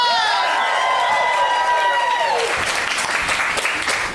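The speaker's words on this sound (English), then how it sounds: "can we get a massive round of applause for the basement?" Audience applause and cheering at an improv comedy show, a loud crowd swell that rises after a sung or sustained tone fades out.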